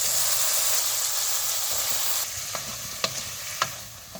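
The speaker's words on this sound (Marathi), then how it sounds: "आता वांग टाकायचं." Eggplant frying in oil with Kolhapuri onion-garlic masala and cumin, a loud constant sizzle that drops a little partway through, followed by a few sharp spoon clinks against the pan.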